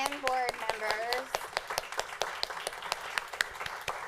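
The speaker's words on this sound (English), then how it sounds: "this group deserves a huge round of applause from their parents and board members" Parents and board members at a charter schools review board meeting give a round of applause, a burst of sharp claps from a modest crowd that thins out, with a voice speaking over the start.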